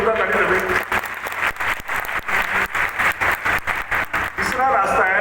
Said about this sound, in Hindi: बस एक बार आपके लिए फिर से एक बार जोरदार ताली बजेगी।